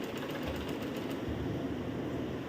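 A sewing machine runs steadily at close range, stitching the folded hem of a lungi in a continuous, even mechanical whir.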